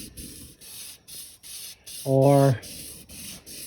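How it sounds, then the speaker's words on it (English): Sandpaper worked back and forth on a Mustang GT crankshaft journal, close rhythmic scratchy strokes, with a short tonal squeal in the middle and a brief spoken word. "sandpaper on the journal, and we are cleaning"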